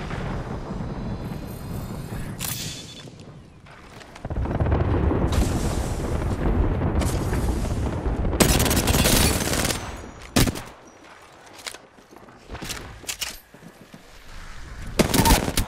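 Heavy video game gunfire aimed at the player inside a building, with dense stretches of rapid automatic shots and booming impacts, then separate loud sharp cracks after quieter gaps.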